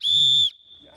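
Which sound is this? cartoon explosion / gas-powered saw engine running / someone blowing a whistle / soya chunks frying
someone blowing a whistle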